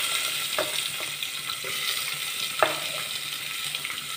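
Onion pieces hit hot oil already holding mustard seeds and garlic cloves, raising a steady, even sizzle with a few small pops and no talking.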